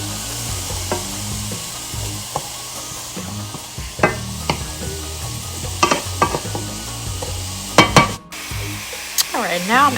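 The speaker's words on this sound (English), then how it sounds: "I've got my pan here ready to go. I'm going to turn on some heat" Chopped sweet onion fries in a hot pan, a steady sizzle under repeated scraping and stirring with a wooden utensil, close by.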